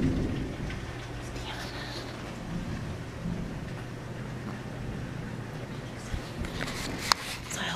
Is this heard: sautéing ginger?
no